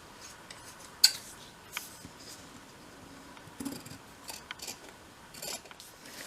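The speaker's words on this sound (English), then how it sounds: "So I'm just going to trim a little bit off of that wider seam." Scissors trim the excess off a wide seam on a Roman blind, giving a few quiet, close snips and crisp cuts scattered across a near-silent room.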